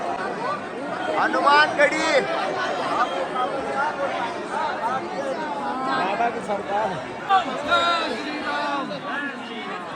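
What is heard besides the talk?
large crowd at Hanumangarhi temple, Ayodhya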